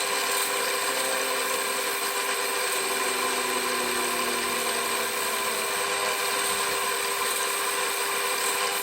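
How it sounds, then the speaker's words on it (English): A wood lathe turns a tulipwood bowl at slow speed, giving a steady, even machine whine and hum with a constant tone throughout and no talking. "Put the lathe on slow now."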